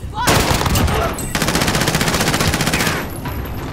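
Rapid automatic gunfire in the video game Warzone, loud and close, sustained bursts rattling almost continuously for several seconds with a brief break, while players shout over it.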